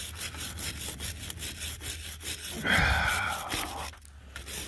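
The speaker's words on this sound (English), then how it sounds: "This is stainless steel wire brush." A stainless steel wire brush scrubs metal on a 1956 Massey Ferguson TO35 tractor during an electrical repair, giving close, steady rasping strokes with one louder, harsher pass midway.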